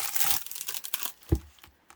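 Paper and cardboard packaging from a beauty haul being opened close up, with quiet crinkling and tearing rustles, a few sharper crackles and one soft thump, fading toward the end.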